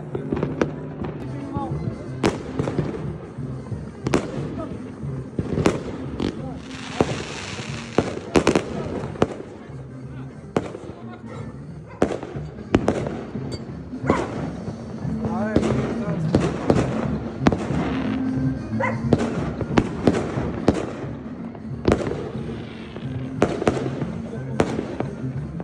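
New Year firecrackers pop in sharp, irregular bursts, some near and loud, others quicker and scattered, while people talk and shout in the background.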